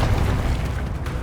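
A Confringo fire spell explodes in the video game Hogwarts Legacy, a loud, dense, low burst that fills the short moment and fades only slightly, with no speech.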